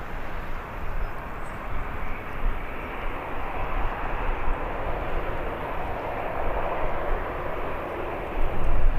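Loud, continuous roar of an aircraft engine at Birmingham airport, broad and sustained throughout and swelling slightly at the end, with no voices over it.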